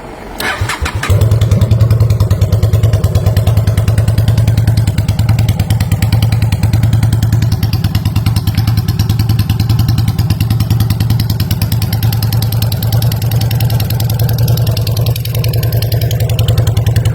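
A 2005 Honda Shadow Aero VT 750 motorcycle engine starts with a brief clatter, then settles into a loud, steady, low idle rumble that runs throughout.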